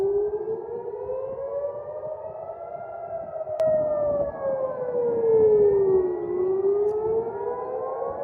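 Civil defense sirens over Jerusalem during an Iranian retaliation strike, several overlapping wailing tones rising and falling slowly, loud and sustained with a brief sharp crack partway through.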